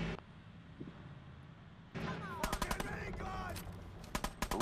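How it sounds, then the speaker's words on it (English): Gatling gun firing in the video game Fallout 4: after a quiet stretch, a run of rapid, loud repeated shots in bursts, accompanied by whirring mechanical tones, with a voice faintly present. "I've got this great fucking Gatling gun to use."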